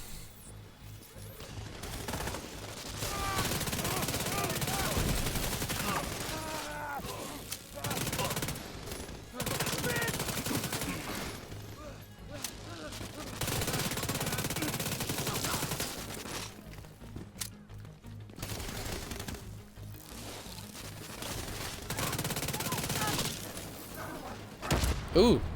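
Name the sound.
gunfire from enemies in the video game The Division 2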